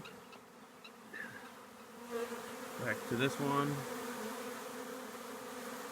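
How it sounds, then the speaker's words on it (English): A honeybee swarm fans and flies around empty hive equipment, making a soft, steady buzz that swells with a few louder passes near the middle. Someone speaks briefly over it. "Lots of fanning. Lots of bees coming and going. Lots of bees all around it."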